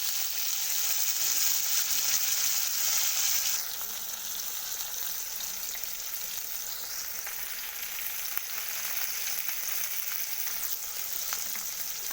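Chopped tomato frying in a pan for a Bengali curry, a steady broadband sizzle throughout that drops slightly in intensity after the first few seconds as the moist tomato settles into the oil; no talking.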